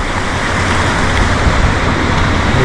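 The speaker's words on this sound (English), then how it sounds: "A lot of water on the river." A river running high and fast after several days of rain, a loud, dense, continuous rush of water close by with no break and no voices.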